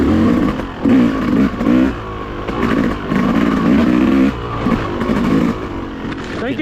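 An enduro dirt bike's engine revs and bogs in quick bursts while it is ridden hard through tight woods at a national enduro race, loud and close, with clattering from the rough trail.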